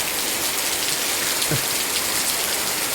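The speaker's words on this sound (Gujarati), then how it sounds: "થઈ ગયા છે બપોરના ત્રણ ને વરસાદ ફૂલ આવે છે" Heavy rain pours down steadily and loudly at a home on an afternoon, a dense, even hiss of drops with no voices.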